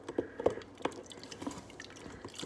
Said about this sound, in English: It just comes out like a faucet, like that. Box wine.